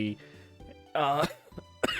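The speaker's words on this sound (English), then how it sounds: "I can't shake this cough" A single harsh cough bursts out, followed by a quieter throat sound, with brief voiced noises around it.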